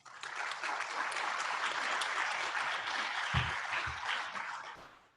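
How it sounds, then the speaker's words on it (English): An audience at a 2020 Coolest Places to Work awards event claps in a sustained, even wash of applause, moderately distant, with a few louder thumps near the end. "let's give us another round of applause"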